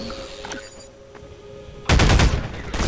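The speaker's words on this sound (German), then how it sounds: "Ich schieße jetzt einfach weiter drauf." Loud, rapid automatic gunfire in Half-Life 2 breaks in suddenly after a quieter stretch of game ambience and continues as a dense burst to the end.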